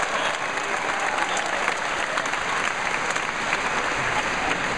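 A comedy club audience in Pearl, Mississippi claps steadily and loudly for about five seconds, a dense wash of many hands with a faint murmur of the crowd underneath.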